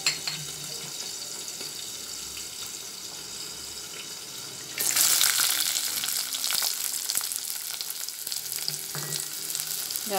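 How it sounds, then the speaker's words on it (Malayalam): Shallots dropped into hot oil in a pan for a sardine avial, a quiet steady background giving way midway to a loud, continuous close sizzle of frying that carries on to the end. "ഇപ്പോൾ എണ്ണ തിളച്ചു. അപ്പോൾ നമുക്കിനി ചെറിയുള്ളി ഇടാം."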